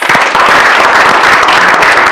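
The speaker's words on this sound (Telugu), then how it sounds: "క్లాప్స్." A group claps and cheers on a Telugu TV game show, a dense, loud burst of applause filling the short moment with no talk.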